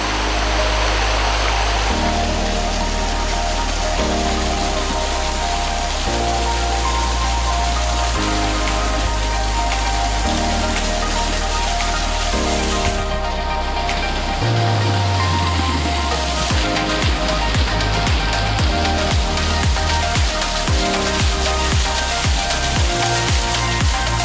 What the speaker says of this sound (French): que ce soit le jet d'eau qui est juste à côté, donc pour cette petite cascade